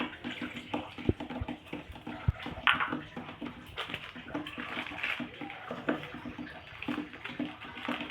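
Fresh water poured into a bowl for potato pakora batter, a splashing, gurgling pour at close range with a few knocks against the bowl.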